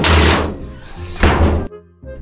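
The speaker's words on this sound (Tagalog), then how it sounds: "sara ko muna yung pinto, baka makawala" A door is pushed shut with a couple of heavy thuds and a final solid knock, loud and close, followed by a brief hush.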